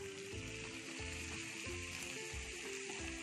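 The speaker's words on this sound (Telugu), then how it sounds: "ఇప్పుడు తోటకూర వేసేసుకుందాం." Amaranth leaves sizzling in a pan over a tempering of garlic and spice paste, a steady dense frying hiss with faint stirring clatter underneath, no voices.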